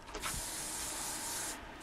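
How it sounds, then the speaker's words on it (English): Waterproofing spray hisses onto a phone in one continuous, fairly quiet burst lasting most of the moment, with no talk. "You're just gonna want to spray that on the phone."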